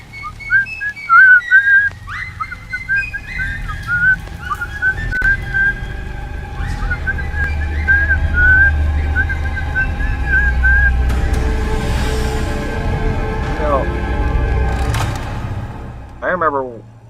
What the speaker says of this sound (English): Got that little whistle.